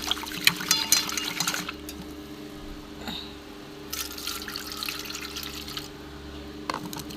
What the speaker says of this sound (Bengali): এই মুগ ডালটা ভালো করে আমি ধুয়ে নেব।